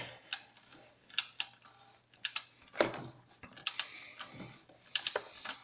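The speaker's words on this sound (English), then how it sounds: "on these torque wrenches, a lot of times the click is very subtle, so you gotta listen for it and try to feel it too in your hand" A torque wrench clicks several times during an oil change on a car, with sharp, fairly close clicks spread irregularly across a quiet background and a low steady hum beneath.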